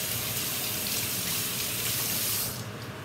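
Hands being washed under a running kitchen tap, a steady loud rush of water that eases slightly near the end, with no talking.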